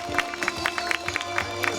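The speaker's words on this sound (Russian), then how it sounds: "Аплодисменты." Applause and crowd cheering at an outdoor children's summer festival in a village, with scattered hand claps and voices rising over a steady crowd murmur.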